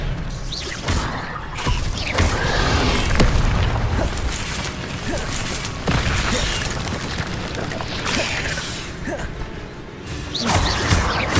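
Expelliarmus and Incendio spells cast in Hogwarts Legacy combat, a dense run of loud whooshes, crashes and booming impacts with fiery bursts, near and continuous over several seconds.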